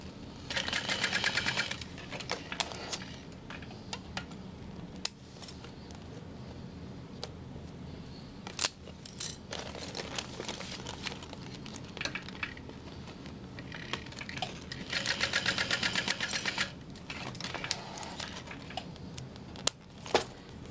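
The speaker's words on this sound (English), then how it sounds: "I'm going to baste those together" A sewing machine bastes fabric pieces of a bag together, running in several fast whirring bursts separated by pauses filled with small clicks and handling noises, close and clear with no talking.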